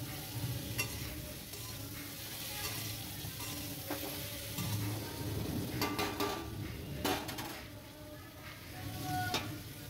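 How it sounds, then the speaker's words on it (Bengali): Sweet pumpkin pieces frying in a pan with salt and turmeric in a village kitchen, a steady sizzle broken by scraping stirs and clinks of utensil against the pan. "মিষ্টি কুমড়োটা ভাজা হোক"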